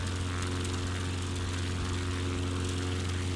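A propeller plane flying in Flight Simulator 2020 with a loud, constant engine and propeller drone, steady and unbroken throughout.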